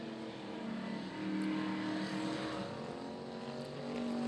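Stock cars race around the Archerfield Speedway dirt track, their engines a faint, distant, sustained drone that swells slightly as they pass.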